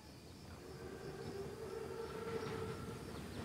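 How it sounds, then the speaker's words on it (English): An armored train, a German Panzerzug, rumbles past in a Call of Duty WWII scene, a steady low rolling drone with a faint tonal whine, continuous and moderately distant, no talking. "Train's right on time."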